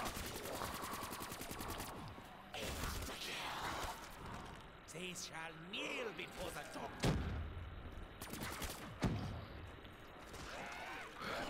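Rapid gunfire bursts in the video game Call of Duty: Black Ops III, Cosmodrome map, crackling in repeated volleys with sharp broadband hits, mixed with game sound effects while a person talks over much of it.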